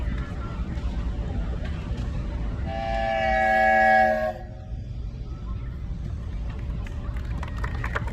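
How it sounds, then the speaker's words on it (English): The whistle of a 20 horsepower Advance Rumely steam traction engine at a threshing show parade sounds one steady blast of almost two seconds over quiet outdoor background noise, then stops. "it'll be followed by one long blast of the whistle"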